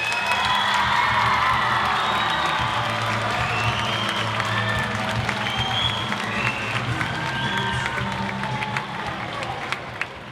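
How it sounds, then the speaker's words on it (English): School talent show audience claps and cheers for upcoming performers, a loud sustained roar of applause with whoops and children's shouts, gradually tapering near the end. "big round of applause for everyone that's going to be performing"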